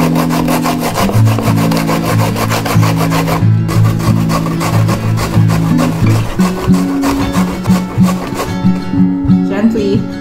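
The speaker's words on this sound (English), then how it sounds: "This is a box grater, and this is the side I'm going to grate the coconut on" Coconut grated by hand on the coarse side of a box grater: loud, rhythmic rasping strokes in quick succession, close to the microphone, slowing near the end.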